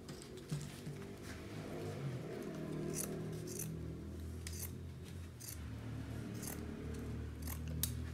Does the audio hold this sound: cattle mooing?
no